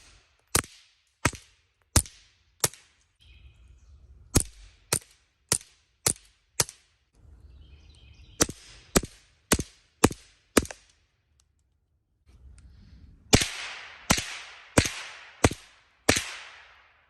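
Suppressed gunshots with high velocity ammunition fire about twenty sharp, muffled cracks, singly and in quick strings, with quiet pauses and faint handling noise between them.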